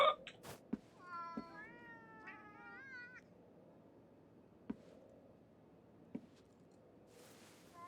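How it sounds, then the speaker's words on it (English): A cat in the video game Ghostwire: Tokyo gives a few drawn-out, wavering meows early on, fairly clear and close, followed by quiet background and occasional soft taps. "We pet the kitty."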